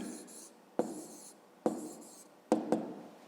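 Pen or pencil writing out numbers by hand during a fifth-grade maths lesson on solving equations: soft continuous scratching strokes with a few sharper taps, close and quiet, with no talk.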